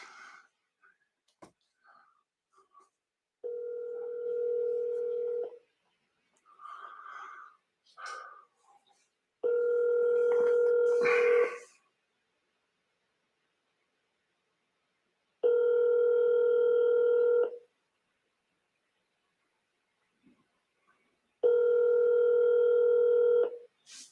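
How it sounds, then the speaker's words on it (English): An outgoing phone call rings back in evenly spaced electronic tones, about four rings with silent gaps between, and faint rustles and murmurs in the pauses. "I'm just making the phone call from my cell phone"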